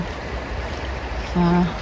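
River water flowing in cold weather, a steady soft rushing wash throughout with a brief voice near the end.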